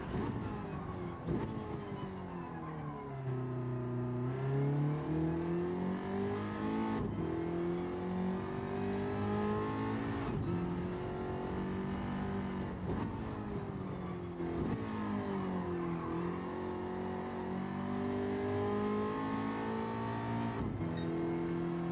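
A race car engine in Gran Turismo 7 revs up and down through gear changes, its tone climbing and dropping repeatedly in a continuous, fairly loud drone during a time trial lap.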